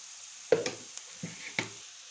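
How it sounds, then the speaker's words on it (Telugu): Soya chunks (meal maker) with green chilies fry in a pan for a meal maker manchurian, giving a soft, steady sizzle broken by a few sharp stirring knocks and scrapes, close and fairly quiet, with no voices. "ఇవి కొంచెం ఫ్రై కానివ్వాలి"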